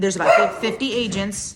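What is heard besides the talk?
dog barking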